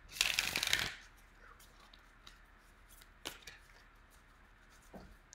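A brisk riffle of tarot cards being shuffled close up, followed by quiet soft taps and slides of cards being handled.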